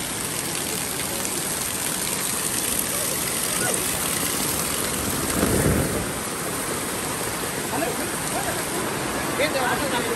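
Heavy rain pours steadily at a farm, a dense, constant hiss filling the scene with a low rumble swelling midway through.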